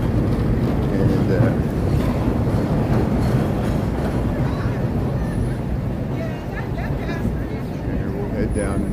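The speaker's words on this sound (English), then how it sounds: "the L going by" Chicago L elevated train rumbling past overhead in the downtown Loop near Wabash, a steady, loud low roar of rail traffic mixed with street ambience and some voices throughout.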